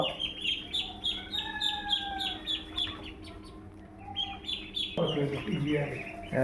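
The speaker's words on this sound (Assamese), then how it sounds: "চাওক, এইবিলাক হোৱাইট পেকিং হাঁহৰ পোৱালি, 15 দিন বয়স হৈছে।" White Pekin ducklings, fifteen days old, give a steady run of high, repeated peeps close by, with a louder burst of mixed cheeping and scuffling near the end.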